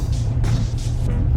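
A Chevy Colorado pickup on Nitro tires drives through a snowstorm, its engine and road noise giving a loud, steady low rumble with soft whooshing swells of snow and wind passing the cab.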